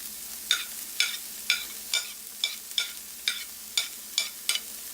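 Carrot and cabbage are stirred in a hot pan for a veg Mughlai paratha, a spatula scraping in a steady rhythm of about two strokes per second over a faint sizzle, close by and without talk.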